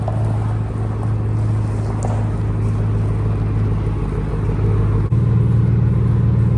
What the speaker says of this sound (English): So let's get the truck pulled back here.